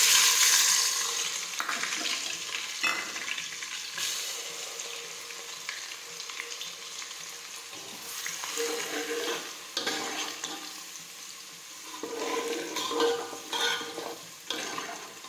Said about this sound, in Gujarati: હવે આપણું તેલ છે તે ગરમ થઈ ગયું છે. હવે આપણે તેમાં લસણ નાખી દઈશું ખાંડેલું.